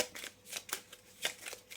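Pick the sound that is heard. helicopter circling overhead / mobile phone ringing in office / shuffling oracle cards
shuffling oracle cards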